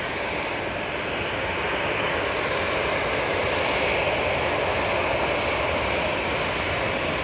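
Jet2 airliner landing at Manchester Airport in windy conditions, a steady loud roar of engines and rushing air throughout, with no voices.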